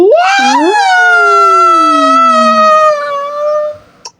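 A dog in a Roblox game howls in one long, loud, wavering cry that slides downward and fades out, alone and close by.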